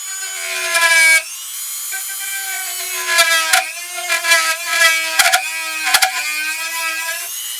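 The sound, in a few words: cutting tool boring out wood of ventriloquist dummy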